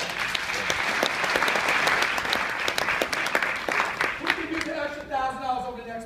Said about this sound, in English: Let's get a couple of round of applause.